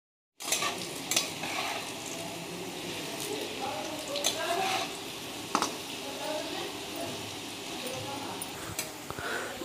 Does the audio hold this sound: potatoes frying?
yes